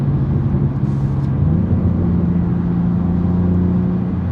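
A BMW M4 Competition accelerating, heard from inside the cabin as a steady, droning engine note whose pitch climbs partway through, with no talking.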